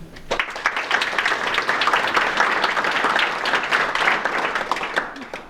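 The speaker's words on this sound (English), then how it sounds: "Let's have a big round of applause for these remarkable people." A crowd at a Rotary honors dinner breaks into sustained applause, many hands clapping steadily and loudly for several seconds before tapering off.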